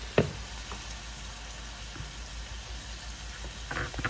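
Salisbury steak patties sear in a pan with a soft, steady sizzle, faint and close, broken by a few light knocks and utensil taps near the start and end.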